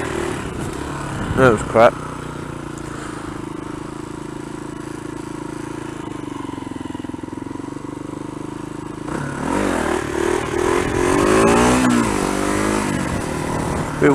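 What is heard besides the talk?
Kawasaki KLR 250 motorcycle revving during wheelies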